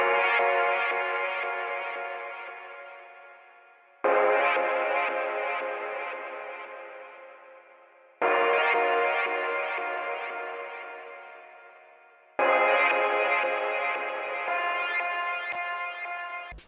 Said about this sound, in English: So for the first sound, we got keys undertonal, and this one came out of this Paradisal sound kit in Serum.